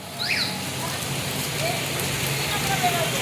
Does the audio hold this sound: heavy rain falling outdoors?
yes